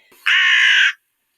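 A single loud, harsh crow caw rings out close by, one sustained rasping call that stops abruptly into silence.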